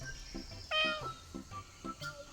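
A cartoon cat in an animated children's series meows several times, short meows with one longer, louder cry in the middle.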